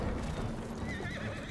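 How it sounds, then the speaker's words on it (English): Hoofbeats of a horse galloping in the samurai game Ghost of Tsushima, with a whinny rising over the steady clip-clop and a sharper hit right at the end, all close and fairly loud. "Where's my horse?"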